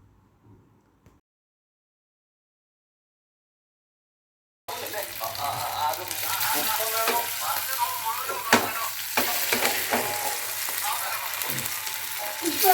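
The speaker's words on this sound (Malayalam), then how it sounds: "ഇനി നമ്മൾ ഒന്ന് മീനൊക്കെ ഒന്ന് ഫ്രൈ ചെയ്ത് എടുക്കണം" Fish frying in a pan for a home-cooked meal. After about five seconds of near silence, a loud, steady sizzle and crackle of hot oil starts abruptly and continues to the end.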